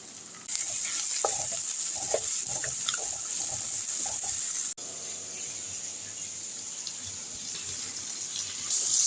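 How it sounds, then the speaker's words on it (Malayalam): Beef mince stirred in a pan with green chili, ginger and garlic gives a continuous sizzle broken by scraping stir strokes, brief cut midway, then steady frying. "ആ കൂട്ടത്തിൽ തന്നെ വെന്തോട്ടോ പച്ചമുളക് ഇഞ്ചി വെളുത്തുള്ളി അത് നല്ലപോലെ മിക്സാക്കാം"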